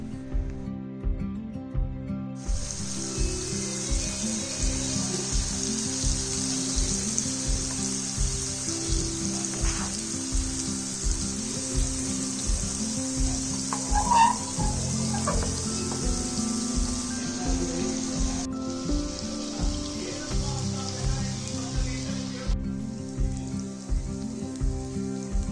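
Masala-coated seer fish frying on a hot tawa, a continuous close sizzle with faint crackling and a steady rhythmic ticking underneath, holding at an even moderate level throughout.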